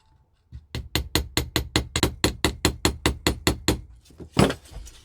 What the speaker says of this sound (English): I'm going to ball peen hammer this